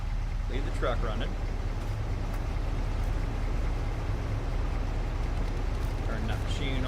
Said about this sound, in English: Leave the truck running.